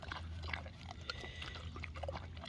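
Dog eating dinner outdoors on a New Zealand homestead, close wet chomping and slurping in a continuous stream over a low background hum.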